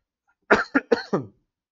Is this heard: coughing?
yes